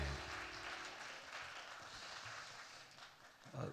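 A church congregation applauding during a Sunday praise worship service, a faint, distant wash of clapping that holds steady for a few seconds.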